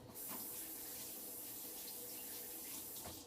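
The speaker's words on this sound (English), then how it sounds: "Let's give my hands a quick rinse." Hands are rinsed under running kitchen tap water, a steady close splashing stream with no talk.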